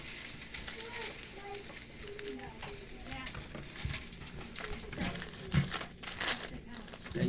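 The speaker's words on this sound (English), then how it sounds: "you can use the wax paper now to fold it more evenly and make it more perfect and to shape it" Wax paper crinkles and rustles softly and continuously while homemade butter is folded and pressed into a square stick, with faint scattered handling sounds.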